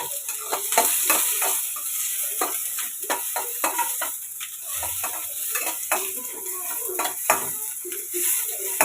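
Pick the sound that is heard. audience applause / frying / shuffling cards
frying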